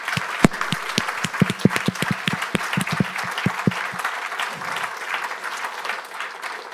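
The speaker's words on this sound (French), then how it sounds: "Donc on peut peut-être les applaudir." Audience applause at a French business conference on finance data and technology, a burst of many hands clapping loudly that thins out and fades over about five seconds.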